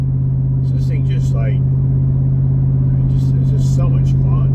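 Ford Raptor truck's engine and exhaust rumble steadily and loudly throughout, a deep continuous drone up close, with a voice talking over it.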